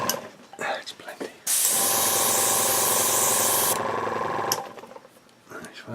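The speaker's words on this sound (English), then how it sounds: "I tend to take it off when I'm spraying large pieces." An airbrush sprays paint onto a Dragon M4A3 Sherman model tank in one continuous hiss lasting about two seconds, with a voice and small handling clicks before and after it.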